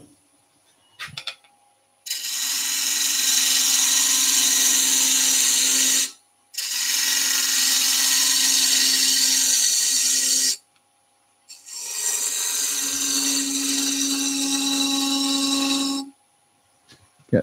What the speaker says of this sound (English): let's clean up with my gouge